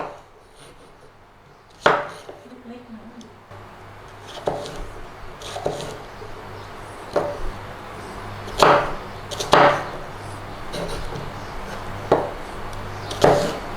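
A knife chopping small onions on a board to match diced pineapple for pineapple shrimp fried rice: irregular, crisp single chops a second or two apart, close and fairly quiet against a low background hum.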